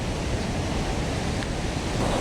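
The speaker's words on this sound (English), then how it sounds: "Wow, it's pretty amazing how much water is coming through." Huka Falls in New Zealand rushes with a heavy volume of water, a dense, steady broadband roar that fills the whole moment without a break.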